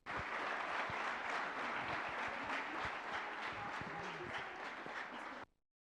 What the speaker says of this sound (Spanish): vamos a recibir con fuertes aplausos